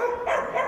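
A single short dog bark at an animal shelter, close and fairly loud, cut off almost as soon as it starts.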